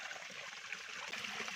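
Steady stream of running water flowing into a new fishpond stocked with small fish, a continuous broadband trickle and splash held at an even level throughout, with no voices.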